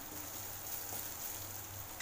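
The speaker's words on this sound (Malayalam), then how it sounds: "ചേർത്ത വെളുത്തുള്ളിയും ചെറിയുള്ളിയും വറ്റൽമുളകും കറിവേപ്പിലൊക്കെ ഒന്ന് ഫ്രൈ ആകട്ടെ" Garlic, shallots, dried chillies and curry leaves frying in hot oil, giving a steady, soft, continuous sizzle with a faint low hum underneath and no talking.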